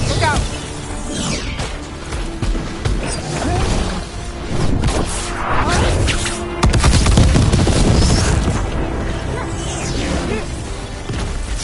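Booming explosions and crashing impacts fill a Dragon Age: The Veilguard battle against darkspawn, dense and continuous across the clip with a heavier surge midway, and voices faintly under the din.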